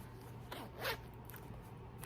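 A zipper slides along a Vera Bradley zipper pouch in one quick, quiet pull at close range in a calm room.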